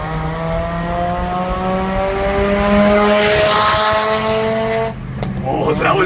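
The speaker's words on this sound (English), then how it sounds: "Oh, that was a good end of backfire, yes!" A Mazda RX-7 engine revs with a steady rising drone, then cuts off abruptly into a sharp exhaust backfire pop, heard up close and loud.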